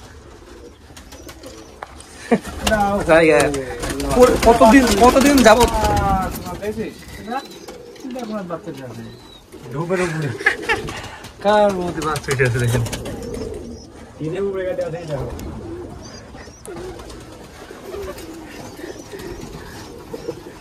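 Giribaz pigeons coo in their loft in repeated rolling bursts, loud and close, with a person talking over and between the calls.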